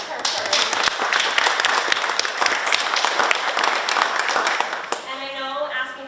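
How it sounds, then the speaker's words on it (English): An audience at a school committee meeting gives sustained applause for a student pin designer, a dense wash of clapping that fades as a voice begins speaking. "So a round of applause for her first."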